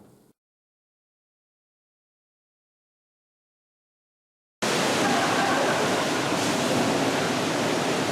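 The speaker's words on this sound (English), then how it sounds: "look, we're on the beach right here" Steady ocean waves washing onto a beach fill the air as a loud, continuous broadband roar that starts abruptly after a stretch of near silence and holds evenly to the end.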